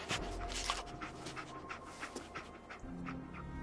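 The dog companion Dogmeat in Fallout 4 pants in quick, rhythmic breaths close by, a series of soft huffs with a faint whimpering edge, heard alone without speech.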